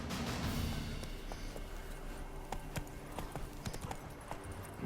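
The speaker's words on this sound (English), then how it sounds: "Giddy up. Ha!" Horse hooves trotting in The Witcher 3 video game, a steady clip-clop rhythm close up over a low ambient bed, with a brief rider's voice near the start.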